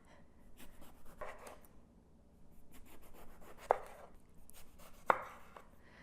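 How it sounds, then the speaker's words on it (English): A kitchen knife slices an eggplant into rounds about a quarter to half inch thick on a board for baked eggplant parmesan, giving soft scraping cuts and two sharp knocks of the blade hitting the board, close and fairly quiet. "You want your slices to be between 1/4 inch and 1/2 inch."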